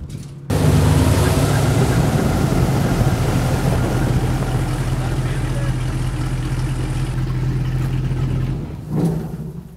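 A loud airboat engine roars continuously with a low, throbbing drone and wind rush during a slow ride near New Orleans, holding steady before easing off near the end.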